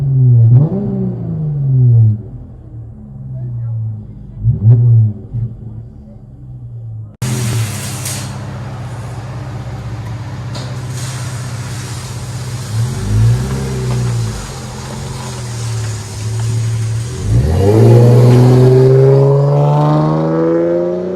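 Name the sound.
Dodge Challenger 3.6L V6 exhaust heard from inside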